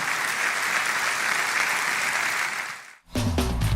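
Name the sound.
church congregation applause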